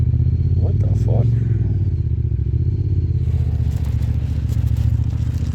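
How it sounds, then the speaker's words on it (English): Honda side-by-side off-road vehicle rumbling past steadily and close, a loud continuous engine drone with some clattering and crackling as it goes by. "So the side-by-side is literally trying to set off my alarm."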